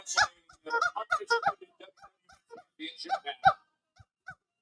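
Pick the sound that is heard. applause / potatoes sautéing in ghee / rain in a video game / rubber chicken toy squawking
rubber chicken toy squawking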